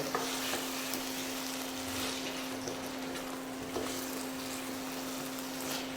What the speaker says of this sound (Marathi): हिरवे वाटाणे घालू आणि गाजर घालू या सगळ्या गोष्टी एकत्र मिसळून घ्यायच्या